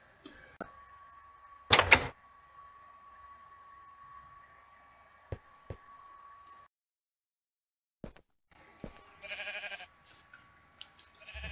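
At a historic mission with livestock, a sheep gives one loud, close bleat, then bleats again more briefly later. Steady electronic tones and scattered clicks sound around the calls.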